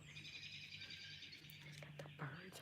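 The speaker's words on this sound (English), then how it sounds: "I'm trying to listen to the birds out here because they sound really peaceful" Birds singing outdoors on a cool day, faint high chirps and trills running continuously at a distance under a low background hum, with a few brief rustling sounds.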